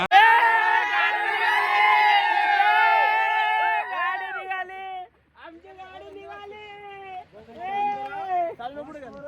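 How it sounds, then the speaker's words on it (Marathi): A group of boys cheers and shouts loudly in a dense, close crowd as a vehicle sets off on a trip to the Konkan, with the voices thinning out and then rising again toward the end. "गाडी निघलेली आहे भाऊंनो, गाडी निघलेली आहे. पोरांचं जल्लोष बघा."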